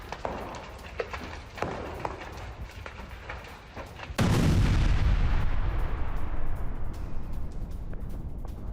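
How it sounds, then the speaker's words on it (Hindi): News footage of a Russian missile strike on Kyiv: a sudden loud explosion roars in midway and rumbles on, after quieter scattered thuds and background noise. "रूस ने 3 इस्कैंडर मिसाइलों से कीव पर किया हमला।"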